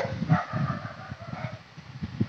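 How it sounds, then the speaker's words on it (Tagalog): A chubby pet dog makes soft, close whimpering and grumbling sounds in short irregular bursts, quiet and low over a faint room background. "Matabang aso."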